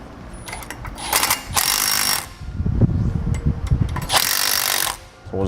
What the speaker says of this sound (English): Now we'll tighten these down evenly.